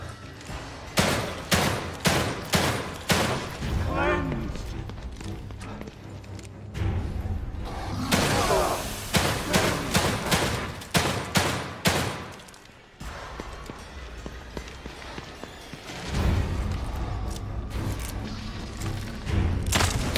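Gunfire in The Evil Within 2, a survival horror game: a close, loud run of evenly spaced shots, then further volleys and blasts over twenty seconds, with a thud-heavy sustained barrage near the end.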